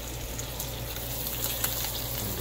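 Pre-cooked turkey pieces sizzle and pop steadily in a hot pan, a soft continuous frying hiss with small crackles, heard close up with no talking.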